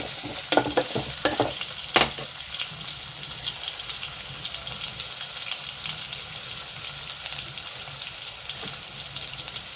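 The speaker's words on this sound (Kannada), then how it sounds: "ನೀರುಳ್ಳಿ ಪಾಡ್ದು ಚೂರು ಫ್ರೈ ಮಾಡ್ಕೊಡು" Chopped onion sizzling in hot oil for a South Indian tempering before a ladies-finger dish, with a steady loud hiss and a few stirring clatters near the start.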